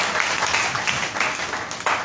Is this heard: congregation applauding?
yes